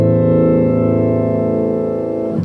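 A piano chord is played with the left soft pedal held down, giving a duller, muffled tone that rings steadily and alone for over two seconds.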